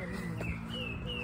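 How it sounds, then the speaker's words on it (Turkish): A starling calls from a tree, a few short whistled and chirping notes with a brief sharp chip, faint and somewhat distant over a low steady background hum. "Bak sığırcık kuşu."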